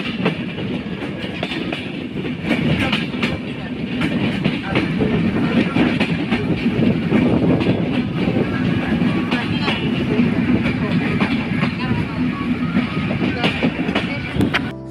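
Madhumati Express, an LHB-coach passenger train, rumbling steadily along the rails near Paksey station, with a continuous loud roar and rhythmic wheel clatter throughout, heard from inside the train.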